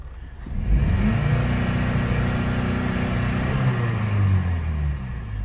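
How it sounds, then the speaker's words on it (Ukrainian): An Opel Vectra C engine, just restarted after a fault repair, runs loud and close with a steady low drone, climbing in revs from around the one-second mark and easing back near the end. "Машинка завелася."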